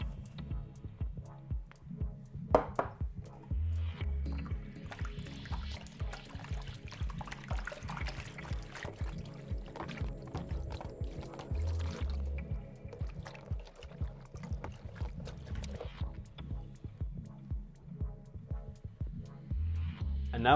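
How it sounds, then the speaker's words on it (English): Dry yeast being stirred into water in a container for pizza dough, with faint sloshing, trickling and low swirling, quiet and steady over a long stretch with no voices. "and we mix in the yeast."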